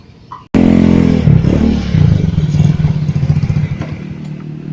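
Motorcycle engine starting up abruptly and running loudly nearby, a steady low rumble with some revving and clatter throughout.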